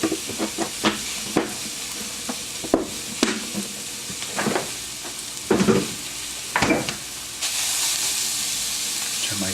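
Peppers and onions sizzle in a hot oiled pan, a steady hiss broken by repeated stirring scrapes and tosses, then a brighter, louder sizzle toward the end, with a voice speaking at times.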